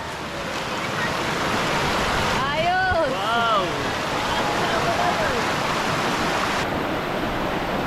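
A river rushes in a steady, loud broadband roar during river tubing in General Nakar, Quezon, with people whooping and exclaiming excitedly over the constant flow.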